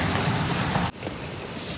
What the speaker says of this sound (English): Sorry if you can hear the rain.